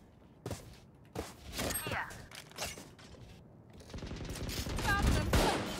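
Gunfire in the video game Valorant comes as a few sharp shots and bursts between quieter game mechanism sounds, building into busier action near the end; voices talk over it in places.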